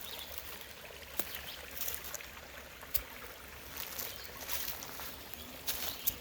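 A creek flows along a walking trail with a steady broadband wash and trickle, close and continuous, with a few brief splashy bursts.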